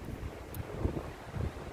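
Strong wind on the Pacific Crest Trail buffets the microphone in low, gusty rumbles that rise and fall throughout.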